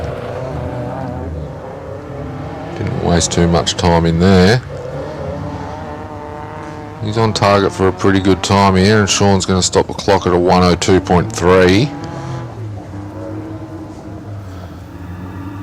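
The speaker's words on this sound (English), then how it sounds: "the Mark II Escort of Sean Stingers now making its way up the hill" A Mark II Escort climbs a hillclimb course, its engine rising and falling through loud bursts of revving with sharp gear changes, passing fairly close, while a commentator talks over the run.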